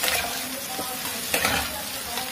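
Potatoes fry in a pan with a loud, continuous sizzle, and the spatula stirs them in a few short scrapes close by.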